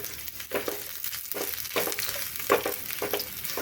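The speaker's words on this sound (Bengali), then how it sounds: "পেঁয়াজটা একটু তেলে ভাজা ভাজা করে নেব।" Chopped onions fry in oil with a steady sizzle and crackle, broken by occasional scraping stirs, close and alone without talk.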